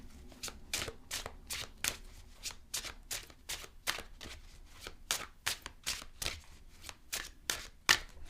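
Tarot cards being shuffled for a reading, a steady run of crisp riffling bursts repeating about twice per second, close and fairly quiet with no voices.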